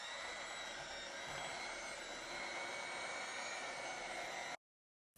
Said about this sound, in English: right now I'm going to blend these up with my mixer